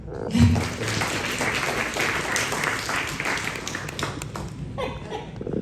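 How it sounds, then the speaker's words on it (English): A crowd at a funeral reception claps steadily throughout, mixed with some laughter, and the clapping fades slightly toward the end. "Why are you clapping on that?"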